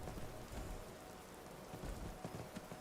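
Steady rain falls at night in Skyrim, a soft, even hiss of drops at low level with faint low rumbles, and no voices.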